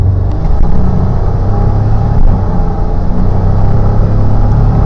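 A turbocharged 1991 GMC Syclone pickup roars steadily in a hard 0-60 run, a loud, dense low rumble with a faint whir, continuous throughout with no voices.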